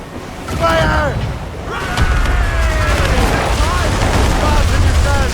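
Ship cannons boom repeatedly in a naval battle in Assassin's Creed Rogue, heavy blasts rolling under a dense din of shouting crew voices and sea noise throughout.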